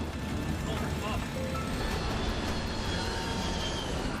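Air Florida Flight 90 airliner engines straining just after takeoff, a loud, steady roaring whine that fills the whole clip without breaks.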